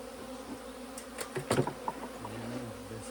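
Honey bees buzz steadily around queen-rearing frames being handled in a hive, a constant close drone with scattered clicks and knocks of frames and equipment.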